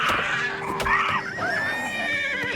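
Whinnying horse in the video game Oblivion Remastered, one loud nearby neigh with rising and falling wavering pitch, followed by a shorter trailing whinny and a few soft thuds.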